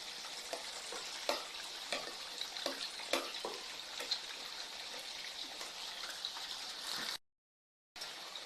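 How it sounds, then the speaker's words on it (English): Onions sizzle in a pot with oil, a steady bright crackle close by with occasional stirring scrapes, running alone until a brief cut near the end. "I'll put the onions first because I want them to get all the aromas out."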